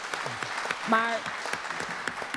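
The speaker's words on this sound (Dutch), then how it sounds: "Dus applaus." Audience applause at a Dutch discussion event about Kick Out Zwarte Piet, steady clapping throughout with a voice speaking briefly over it partway through.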